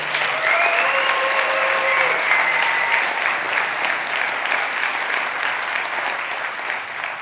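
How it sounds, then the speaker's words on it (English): A conference audience at the beyond tellerrand event in Düsseldorf applauds steadily and fairly loud throughout, with some voices and a few whoops rising over the clapping. "And can I have just one more round of applause for Mark"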